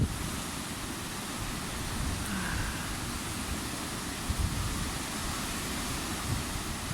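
Strong wind blows outdoors on a gusty day in Ireland, a steady broadband rush heard faintly at a distance, with a few brief bumps and no speech.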